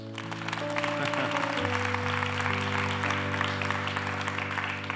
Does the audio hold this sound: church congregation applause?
yes